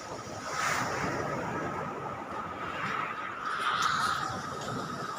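Waves washing onto the shore at Bucana, a steady broad surf roar that swells and recedes in a few slow surges, with wind buffeting the microphone and no talk.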